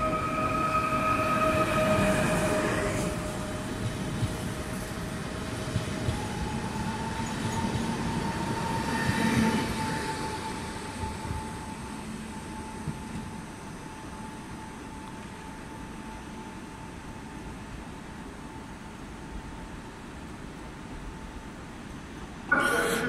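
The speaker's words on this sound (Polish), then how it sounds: "Odjeżdża pociąg osobowy przyspieszony racji Katowice Wisła Głębce" A passenger train pulls out of Katowice station, its loud rumbling roll and squealing wheels gradually easing into a steadier distant drone before a sharp clunk at the end.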